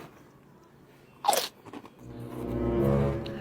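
A single loud crunchy bite into a large matcha-sauced snack that tastes like Coco Crunch, followed by a few softer crackles and then muffled chewing up close.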